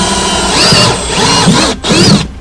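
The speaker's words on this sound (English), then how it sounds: "Yes, I drill a pilot hole." Power drill boring a pilot hole through the wall of an RV for a toilet ventilation fit-out, a loud steady whine running for about two seconds, briefly cutting out, then resuming before stopping.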